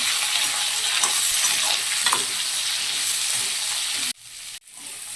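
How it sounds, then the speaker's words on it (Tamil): Eggplant and green chillies sauté in hot oil for a one-pot sambar rice, giving a steady, loud sizzle with occasional stirring scrapes that drops out abruptly near the end, briefly returns, then fades. "கத்திரிக்காய் முடிச்சுட்டு இது மேலே பச்சை மிளகாவும் போட்டுருவோம் போட்டு நல்லா வதக்க வச்சுக்கணும்"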